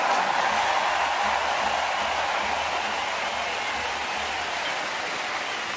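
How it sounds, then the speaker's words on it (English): Large stadium crowd at a Diamond League athletics meeting in Zürich's Letzigrund Stadium roaring steadily for Swiss hurdler Léa Sprunger before the women's 400m hurdles final, a dense, continuous wash of cheering and applause with no letup. "Léa Sprunger will get a massive cheer on the outside lane, the Swiss favourite"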